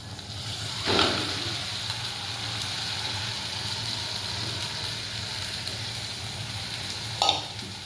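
Pasta fries in a pan with a steady, close sizzling hiss, broken by a couple of brief stirring scrapes.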